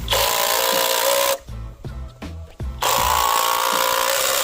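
Power driver running screws into pole barn framing, a loud steady whine for over a second, a brief break with a few knocks and thuds, then another long sustained driving burst close by.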